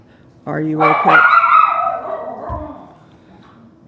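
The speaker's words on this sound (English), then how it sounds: "that was my dog barking" An excited dog barks and yips in a short, close burst that trails into a whimper, overlapping with a person speaking.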